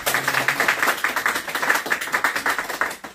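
A crowd claps in celebration at a 100k-subscriber milestone event, a fast steady patter of many hands, close and continuous, with no talk over it.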